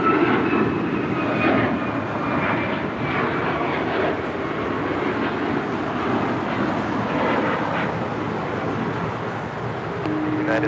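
Airliner taking off from runway 25 right at Los Angeles International Airport, a steady broad jet engine roar at moderate distance holding for the full stretch, with wind buffeting the microphone and no talk.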